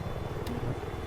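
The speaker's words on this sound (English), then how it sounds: "I got eyes on an enemy helicopter." Enemy helicopter in Battlefield 4 flying overhead, a steady low rotor rumble with throbbing pulses that runs through the whole stretch, with no talk over it.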